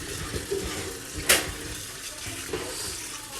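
Sinigang ingredients are rinsed under running water, a steady splashing rush with a few faint clinks and knocks, fairly close and with no talk over it.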